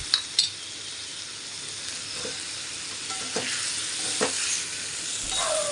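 Diced potatoes with cumin and salt frying in a pan for jeera aloo make a steady close hiss, with a few clinks and scrapes of a spoon stirring them.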